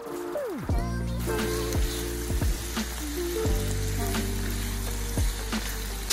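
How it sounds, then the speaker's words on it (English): Mushrooms fry in bacon fat with a loud, constant close sizzle, punctuated by repeated scraping and clinks of a utensil stirring them. "So I'm gonna add in my mushrooms. Yeah, needs a bath in the bacon fat."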